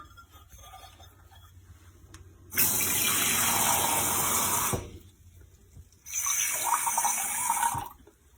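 Tap water gushes into a measuring cup while making homemade play dough, in two steady pours of about two seconds each separated by a quiet pause, close and fairly loud with no talking.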